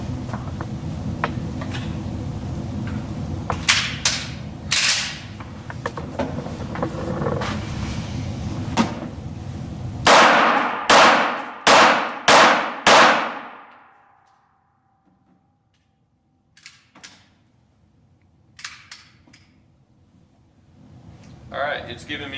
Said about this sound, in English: we're going to start the app on my phone and take 5 shots